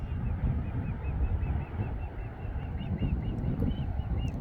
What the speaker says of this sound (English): You can hear some birds from up here.